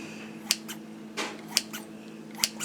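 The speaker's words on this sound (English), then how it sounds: "Get your very sharp kitchen shears and do" Sharp kitchen shears make three crisp, quick snips into bread roll dough, clear and close in an otherwise quiet kitchen.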